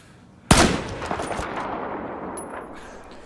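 A single sharp sniper rifle shot at a 50 meter range in Battlefield 4, loud and close, with a long echoing tail that slowly fades out.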